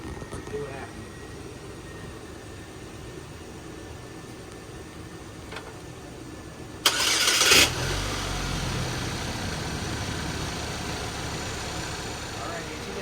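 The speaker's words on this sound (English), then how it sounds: "the engine started with the mass airflow sensor unplugged" Car engine cranked and started with the mass airflow sensor unplugged, a short burst of cranking followed by a steady idle that continues close by.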